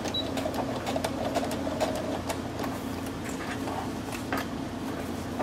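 Sewing machine stitching forward and back on a cloth diaper, a steady close mechanical whir with fast ticking needle strokes that runs without a break.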